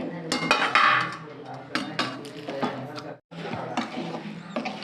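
Metal spoon scraping and tapping as sesame laddu mixture is dropped spoonful by spoonful onto a plate, a run of close clinks and knocks with a brief pause partway through.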